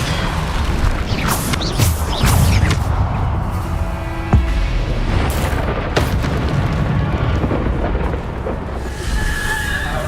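Spell blasts and booming explosions rumble through Hogwarts Legacy gameplay on PS5, heavy thuds and cracks following one another over a dense, loud roar of combat effects.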